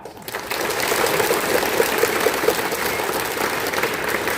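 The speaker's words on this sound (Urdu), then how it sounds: "بجاؤ زور سے تالیاں بجاؤ یہاں پر۔" A crowd claps steadily and loudly at a religious gathering, sustained applause filling the space without a break.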